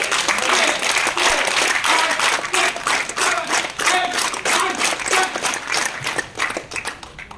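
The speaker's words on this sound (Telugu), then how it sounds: "So are you ready to start level 10 claps?" A group in a classroom performs a rhythmic clapping exercise in a repeating pattern, loud, close hand claps in quick bursts with brief voices mixed in.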